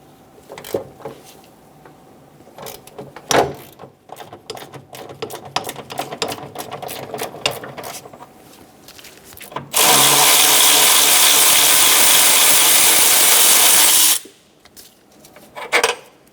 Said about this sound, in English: Using a 17mm socket, we're going to remove the front bolt for the motor mount.